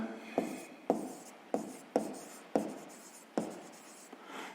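Someone handwrites a sixth-grade math exercise on paper: six or seven quiet, evenly spaced scratching strokes, each a short sharp onset that fades, heard up close in a quiet room.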